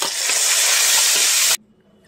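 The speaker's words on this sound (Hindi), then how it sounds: "प्याज भी मेरा फ्राई हो गया" Onions and a bay leaf frying in hot oil in a pan give a loud, steady sizzle that runs alone for about a second and a half, then cuts off abruptly into near silence.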